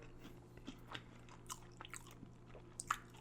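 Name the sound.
chewing a beef patty with pepper sauce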